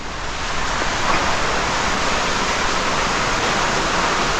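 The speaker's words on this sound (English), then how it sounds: "Water everywhere." Floodwater rushes along a canal where something at the gates is backing the water up and flooding everything, a loud, steady, broadband roar that holds unchanged from start to finish with no voices.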